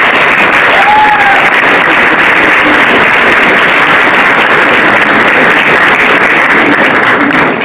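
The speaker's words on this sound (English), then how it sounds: "One last round of applause." Audience applause at a school term prize giving fills the hall, dense steady clapping from many hands sustained throughout at high volume.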